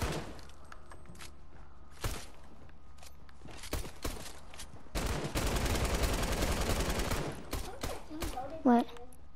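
Gunfire from Fortnite gameplay, with scattered single shots early on and then a dense sustained burst of rapid shots in the middle, loud and close, with brief talk near the end.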